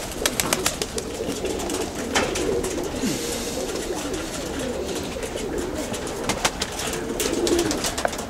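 Pigeons coo softly and steadily while sharp wing claps and flutters burst out at intervals, the birds fairly close against an open outdoor background.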